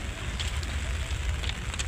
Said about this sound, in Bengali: টিপ টিপ বৃষ্টি হচ্ছে।